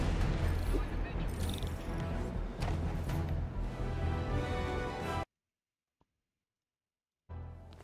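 Gunfire from multiple vehicles in Marvel's Spider-Man Remastered, a dense, loud barrage of shots and booms with music underneath that cuts abruptly to silence before sound briefly returns.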